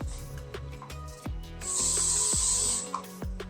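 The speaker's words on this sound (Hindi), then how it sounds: "स्प्रे किया" Hairspray is sprayed onto backcombed hair in one sustained hiss lasting about a second, close and loud, amid soft rustling and combing noises.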